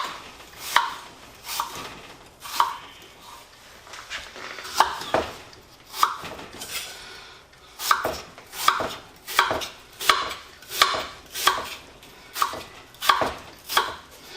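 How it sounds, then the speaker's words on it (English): An apple is cut with a knife into slices about a quarter inch thick, giving a steady run of sharp chopping strikes on a board, a dozen or so close and evenly spaced, alone with no talk. "I just tend to cut it right across and then cut it in the slices about 1/4 inch thick"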